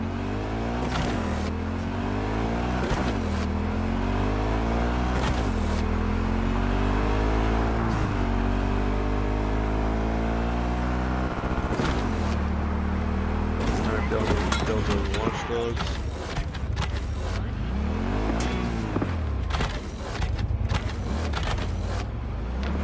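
Motorbike engine in Cyberpunk 2077, revving and shifting pitch in repeated rising and falling sweeps as the bike accelerates and performs tricks, loud and close throughout, with someone talking over it.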